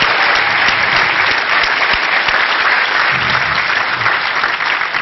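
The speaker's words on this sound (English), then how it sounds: "So one more round of applause for the registration folks." A conference audience applauds the registration staff with dense, loud, sustained clapping across the whole stretch, no voices standing out.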